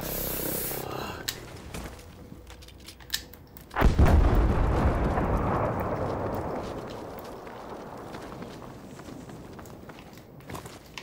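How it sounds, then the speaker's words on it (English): A V1 rocket blast in Battlefield V, a sudden loud explosion after a few seconds of scattered combat noise, its roar decaying slowly into debris and rumble. "Is that a V1 rocket?"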